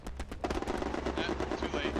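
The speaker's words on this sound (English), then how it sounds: "Strafing run." Rapid machine-gun fire from an aircraft strafing run in the World War II shooter Hell Let Loose rattles out in a fast, dense burst, loud and close, with a voice speaking over it.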